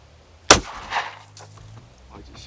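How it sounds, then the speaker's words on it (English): One sharp, loud gunshot from a firearm shooting a plated 165 grain round drilled out into a hollow point, followed by a short echo and quiet outdoor background. "I just shot it."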